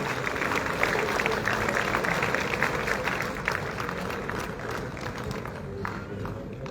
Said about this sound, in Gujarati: આપણે શફાતજીને ખૂબ ખૂબ તાળીઓથી વધાવીએ